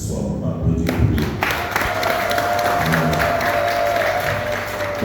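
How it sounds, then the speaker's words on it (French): Church congregation at an evening Mass applauding the celebrant, sustained clapping with some cheering in a large reverberant space, steady and fairly loud throughout. "On va applaudir pour lui."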